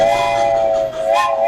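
A steady, loud model railroad train whistle sounds continuously with a bright tonal chord, briefly dipping before resuming, with no voices present, at a model railroad display in Walnut Creek.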